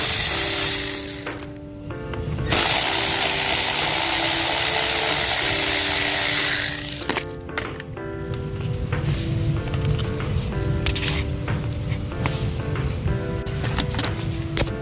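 A ratchet loosening the 8mm ignition coil mount bolts on a Ford F150 makes rapid clicking and buzzing, close and fairly loud, with a sustained whir in between and no talk.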